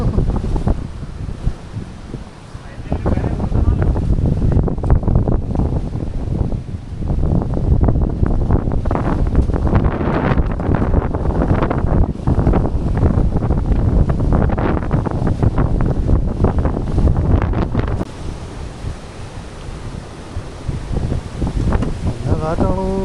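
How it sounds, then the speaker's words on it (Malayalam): Strong wind at Kuttikkanam, a loud, steady roar buffeting the microphone for most of the time, with gusty surges and rumble, easing slightly near the end. "ഇവിടുത്തെ കാറ്റ് തന്നെയാ കാറ്റ്."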